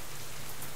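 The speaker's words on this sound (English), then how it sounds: "Oh, blooming rain." Steady rain patters densely and evenly in the survival game Subsistence, a continuous loud hiss of drops on surfaces with no pauses and no voices.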